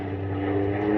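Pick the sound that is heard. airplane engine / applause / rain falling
airplane engine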